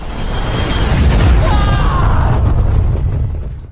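An energy ball bursts in an animated fantasy story: a loud, sustained roaring blast with a swelling rush and shimmering high sweeps that holds for a few seconds, then cuts off abruptly.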